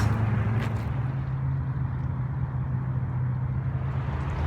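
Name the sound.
freeway traffic noise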